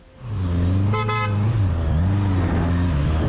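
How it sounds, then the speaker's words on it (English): A car horn blares in one short honk over the loud, close rumble of an idling engine, amid a road clash with motorcyclists. "What are you beeping for?"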